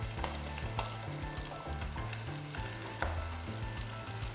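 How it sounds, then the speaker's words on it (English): Shrimp fry in hot oil with a dense, continuous crackling sizzle close by, scattered pops throughout and a low hum underneath, no voices. "So anytime you're doing any frying, what you do is you take the shrimp, slowly put it in and kind of push it away from you"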